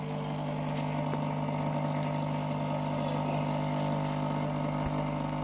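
Elba 969 lever espresso machine brewing after its lever is pulled, a steady mechanical hum with a low pump-like drone running continuously and evenly at close range, with no talking.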